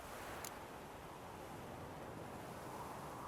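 Steady wind sweeps across an open field with a stream and grain in The Witcher 3, a constant broad rushing roar like surf that stays even throughout, with one faint brief click near the start.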